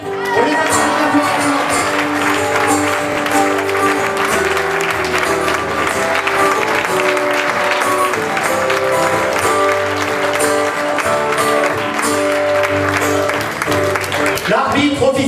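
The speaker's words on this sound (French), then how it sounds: "On les applaudit." An audience at an improv match applauds the assistant referees, a dense and loud sustained clapping with some cheering that runs without a break for about fifteen seconds.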